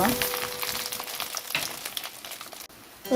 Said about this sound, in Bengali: এখন আমি দিয়ে দিয়েছি আস্তে যে রসুনগুলো নিয়েছি সেগুলো এখন একটু ভেজে নেব